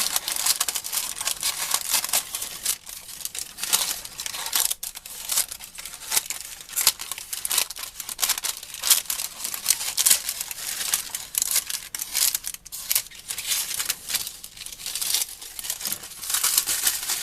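Baking paper for a rhubarb custard tart shell weighted with lentils is crumpled and torn, a continuous close crackling and crinkling with dense sharp bursts throughout.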